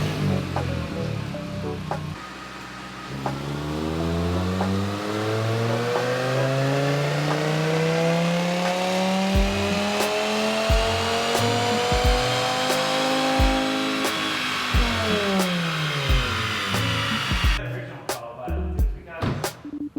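A 2.5 engine with a stainless exhaust revving hard on a dyno, its loud note rising smoothly through the revs, holding, then falling away, ending in sharp crackles and pops.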